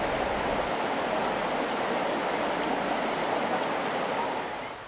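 The Terace Angin waterfall in the Tangse forest of Pidie, Aceh, gives off a steady, even rushing roar. It holds level throughout with no voices and eases slightly at the very end.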